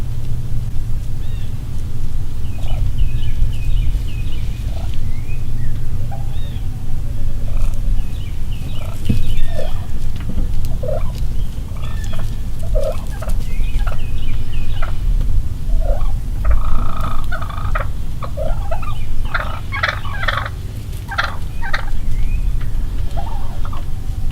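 Two wild turkey hens clucking and yelping within a few yards of a hunting blind in Kentucky, a steady stream of overlapping calls over a constant low background hum.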